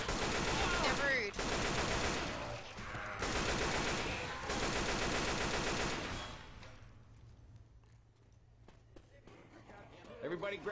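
Gunfire in Left 4 Dead 2 on hard mode, dense bursts of rapid shots filling the first six seconds before fading to quieter scattered sounds, with players talking over it.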